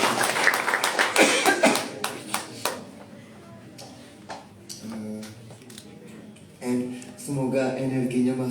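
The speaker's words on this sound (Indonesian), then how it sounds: "Tepuk tangan sekali lagi untuk Mas Nur." Applause from a live concert audience sounds in a dense burst of clapping that thins out and stops after a few seconds, then clear plucked musical tones ring out in the quiet that follows.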